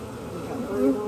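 Honey bees buzzing around an open hive during a frame inspection, a dense close hum with a rising drone as bees pass near.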